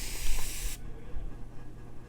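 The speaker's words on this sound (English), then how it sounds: "See, that's a pretty long spray, and I'm just spraying it here" A fine mist spray bottle releases a long, steady hiss for most of a second, loud and close, before it stops abruptly and only quiet room noise remains.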